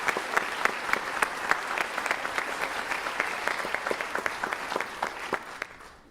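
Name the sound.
audience applause at high school band concert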